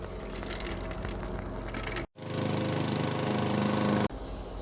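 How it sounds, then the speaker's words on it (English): A neighbor's lawn mower cutting grass outdoors drones steadily and loudly without talk, with one brief dropout midway before the engine noise resumes and then shifts again near the end. "And now my neighbor wants to mow the lawn."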